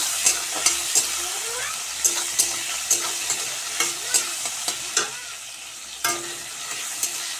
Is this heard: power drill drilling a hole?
no